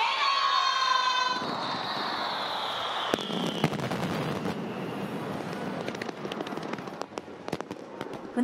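Fireworks at the Funabashi harbour festival in Japan, roughly 8,500 shells launched over the summer night sky: a dense, continuous roar of crackling and booming bursts heard from a distance, with a whistling rise at the start.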